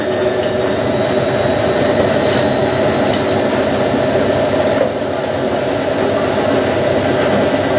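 A washing machine spinning at 500 RPM fills the space with a loud, steady whirring roar, an even drone holding throughout with only faint clicks and no voices.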